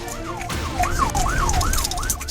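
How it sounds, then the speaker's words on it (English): Police car sirens wail during a high-speed chase across the desert, a steady rising-and-falling siren sweep repeating several times, loud and close over a low road rumble, with no talking. "Sirens echo across the desert."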